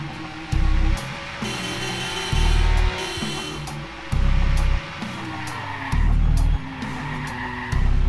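A car in the Watch Dogs video game drives hard and skids repeatedly, with tires squealing over a steady engine roar and heavy low rumbling pulses. The sound is loud and continuous, with no talking.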